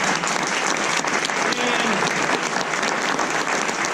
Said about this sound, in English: So one more round of applause for Steve